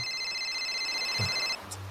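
A cell phone rings with an incoming call, its steady electronic ringtone repeating clearly for about a second and a half before cutting off, with low room noise afterward.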